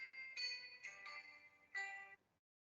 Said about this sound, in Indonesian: Maaf sebentar ini, saya menjawab di telepon.